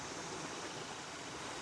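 Fast-flowing stream water where torrent frogs breed, in volcanic forest, rushing in a steady broadband wash with no break or voices.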